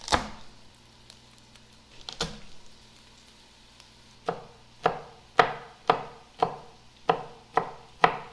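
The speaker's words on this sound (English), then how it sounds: "I got my chopped garlic now" A kitchen knife chopping garlic on a board: a few scattered taps, then a steady run of about eight evenly spaced, sharp, close chops growing louder toward the end.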